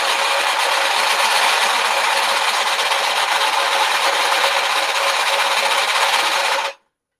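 A woodturning lathe cutting a bowl with a Bowlsaver Max4 coring tool makes a loud, harsh, continuous grinding rasp with rattling that holds steady for several seconds before cutting off abruptly.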